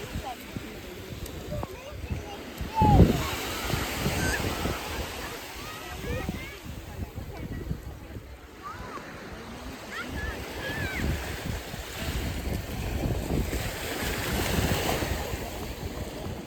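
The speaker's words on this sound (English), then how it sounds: "you can appreciate all the nice sounds of the beach" Sea waves wash steadily onto a Greek island beach, a continuous broadband surf with gentle swells, joined by wind buffeting the microphone and a brief louder splash near the start.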